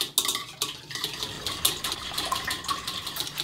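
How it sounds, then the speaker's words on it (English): An egg whisked vigorously in a bowl, with rapid, continuous clinking and scraping of the whisk against the bowl, close and fairly loud. "you'll be taking your whisk and whisk your egg vigorously."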